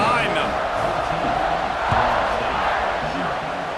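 A college football stadium crowd at the Florida State vs Notre Dame Week 1 game roars at kickoff, a loud, steady wash of cheering that swells briefly near the middle.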